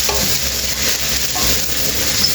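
Chopped raw carrot, radish and cauliflower for a mixed vegetable pickle being stirred and tossed together, giving a steady close scraping and rustling that runs without pause and with no voices.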